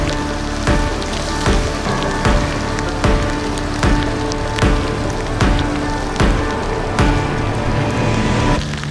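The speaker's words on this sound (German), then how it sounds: "es regnet, was runtergeht." Heavy rain pouring down on a cycling tour in the Austrian Tauern region, a loud, dense, steady hiss with regular drumming knocks on a nearby surface, and no voices.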